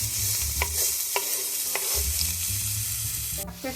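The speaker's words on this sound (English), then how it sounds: "Now you can add in your onion. And we're going to saute that for 2 minutes." Onion sautéing in hot olive oil gives a steady, close, loud sizzle, with a few spoon strokes stirring through it and a brief clatter near the end.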